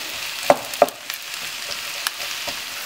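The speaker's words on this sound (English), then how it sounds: "my mushrooms have been cooking for about 3 minutes" Sliced mushrooms frying in olive oil in a pan, a steady soft sizzle broken by a few sharp stirring clicks and spatula taps, close by with no talking.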